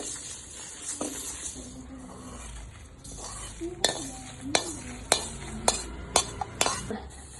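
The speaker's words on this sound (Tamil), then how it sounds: "எள்ளு வந்து நல்லா சவுண்டு வரும்போது எடுத்துடலாம்" White sesame seeds dry-roast in a pan for drumstick-leaf powder, giving a soft crackle under repeated sharp scrapes and clinks of a utensil stirring against the metal, close by.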